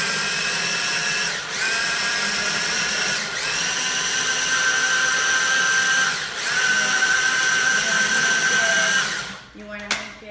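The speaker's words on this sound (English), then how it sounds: "you're gonna put them all in the food processor" A food processor chopping and grinding tomatoes into a paste, a loud steady motor whine broken by brief dips in pitch as it pulses, then winding down and stopping near the end.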